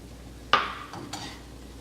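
A spoon scraping through cooked coconut with sprinkled nutmeg and cinnamon in a pan, a sharp single stir followed by a softer second scrape, close and brief against quiet.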